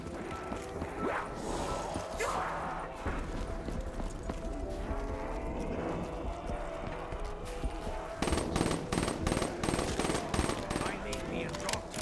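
Gunfire in Call of Duty Black Ops III Zombies, rapid automatic bursts mixed with clattering game effects and impacts, continuous and fairly loud, growing sharper and more rhythmic near the end.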